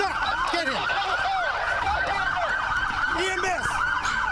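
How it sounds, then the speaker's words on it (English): Emergency vehicle sirens wail continuously and loudly, with overlapping rising and falling tones from more than one vehicle close by, at the scene of a police shooting. "EMS, turn the sirens off."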